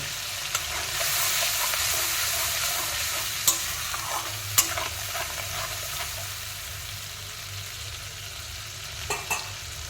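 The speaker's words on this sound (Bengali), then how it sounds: "এখন দিয়ে দিচ্ছি বেটে রাখা টমেটো আর আদা পেস্টটা, দিয়ে ভালো করে কষিয়ে নেব।" Tomato and ginger paste frying in a pan for a paneer curry, with a steady close sizzle and occasional sharp scrapes and clicks of a spoon stirring throughout, no voices.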